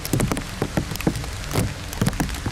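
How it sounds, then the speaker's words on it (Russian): Heavy rain suddenly pours down close by in a forest beside a house, a dense patter of drops drumming on a surface with irregular louder splats. "Дождь прям резко влил."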